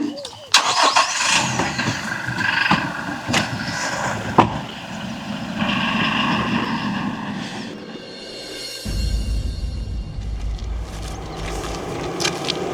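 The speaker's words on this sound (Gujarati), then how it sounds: "અરે ડ્રાઈવર ગાડી કાઢ." A car engine starts up and the vehicle pulls away, the motor rumbling loudly under shouting voices, then settling into a steady low drone as it drives off in a village setting.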